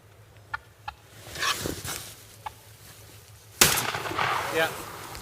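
From a hunting blind on a frosty morning, a wild turkey gives a few short, sharp clucks, fairly faint and spaced apart, followed by a sudden loud shotgun blast that echoes outdoors.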